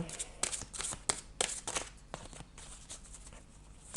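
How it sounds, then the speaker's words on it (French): Tarot cards handled and drawn from a deck, a quick run of crisp riffling flicks and slaps that taper into quieter rustling. "je vais tirer une dernière carte"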